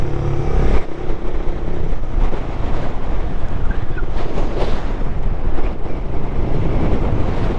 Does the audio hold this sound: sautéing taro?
no